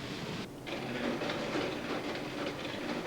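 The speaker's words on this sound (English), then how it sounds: "A conveyor belt takes the ore down the mountainside to the ore bins. There, it is loaded on the train." Iron ore being loaded by machines into a long train of railroad cars at a mine, a steady loud rumbling wash of machinery and rail noise with a brief dip near the start, no voices.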